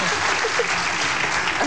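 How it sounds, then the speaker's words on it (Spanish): A television studio audience breaks into loud, close applause during a home-video show, the clapping thick and unbroken, with faint voices and cheers woven through it. "Aplauso también por nuestro video nacional."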